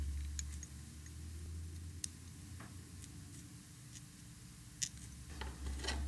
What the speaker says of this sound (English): And snipping your excess free.